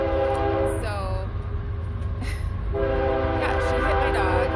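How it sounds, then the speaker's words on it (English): A train passes close by a backyard, rumbling loudly and steadily while its horn blares in two long blasts. Voices can be heard faintly under the noise. "I told the story about why this train is so loud right now."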